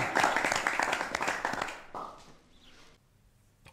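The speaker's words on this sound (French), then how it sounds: "Pourquoi vous applaudissez?" A small group of people claps briefly and closely, a quick patter of hand claps that fades after about two seconds into quiet room noise.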